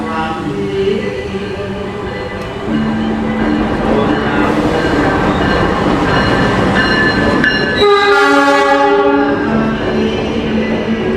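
A passenger train rolls into a station with a steady low rumble and rattling wheels, then a loud horn blast sounds near the end, close by and sustained.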